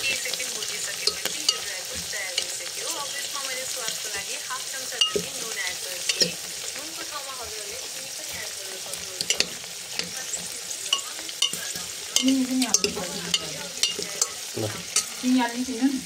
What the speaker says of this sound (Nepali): एकछिन केही समय भुट्नुपर्छ